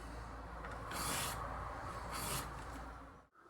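A fresh knife blade slices through scouring pads in two close, soft rasping strokes, each about a second long, with no voices.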